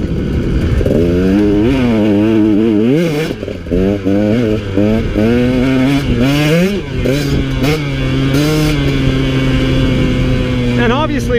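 A 2017 KTM 150 XC W two-stroke dirt bike ridden through a sagebrush field, its loud, raspy engine revving up and down through gears close to the rider, with someone talking over the engine noise.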